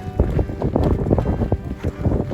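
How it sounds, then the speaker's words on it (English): Strong wind buffeting the microphone on a chilly mountain trail along the Pacific Crest Trail, a loud, steady, gusty rumble that runs through the whole clip with no talking. "wind's blowing like crazy"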